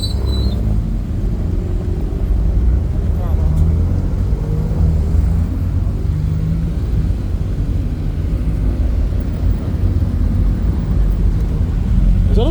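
Steady low engine rumble and road traffic noise from a Porsche 911 sports car and other cars outside the Nürburgring, loud and continuous throughout with no clear separate events.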